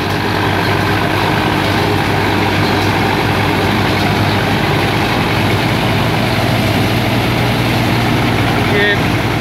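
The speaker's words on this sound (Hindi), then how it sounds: "आज की इस वीडियो में हम दिखाएंगे आप लोगों को मिनी कंबाइन जो कि महिंद्रा अर्जुन 605 DI आई ट्रैक्टर पर लगी हुई है" A Mahindra Arjun Novo 605 DI tractor engine runs with a mini combine harvester mounted on it, producing a loud, steady, close droning rumble without pause throughout.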